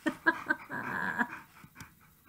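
A dog named Onyx pants and whimpers close by, giving short breathy huffs and thin whining cries in an uneven rhythm, alone without any talking.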